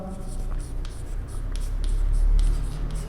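A pen scratches steadily across paper as a maths problem is written out, soft strokes coming in quick bursts close to the mic, with a low background hum.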